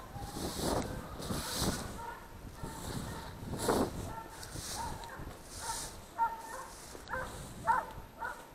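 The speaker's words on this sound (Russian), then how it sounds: "все собаки подключаются, уже Чива, Бен и Лайма гонят" Several hunting dogs bark excitedly in bursts from a distance outdoors during a hare chase, with wind rushing across the microphone between the yelps.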